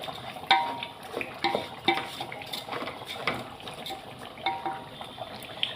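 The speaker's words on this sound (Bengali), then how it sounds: "ঘি দিয়ে ভাজছি, হলুদের গন্ধটাও চলে যাবে" Rice is fried in ghee with turmeric in a pot for basanti pulao, with a soft sizzle under repeated scraping and clinking of a spoon against metal, close by and without voices.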